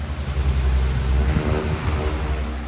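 A 2002 Patton U2 Holmes fan runs on its medium setting, producing a loud, steady low whirring roar with a slight rhythmic pulse, close up and with no talking.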